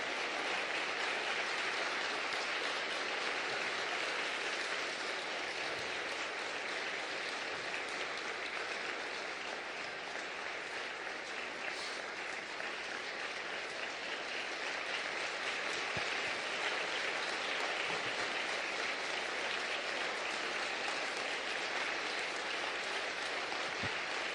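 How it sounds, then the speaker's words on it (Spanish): A church congregation standing at an anniversary service applauds, a dense and steady roar of clapping that holds for over twenty seconds at a moderate, even level. "nos pongamos en pie y en verdad le demos un fuerte aplauso"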